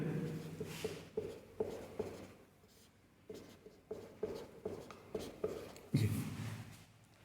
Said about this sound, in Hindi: कोई भी एक लिख लेते हैं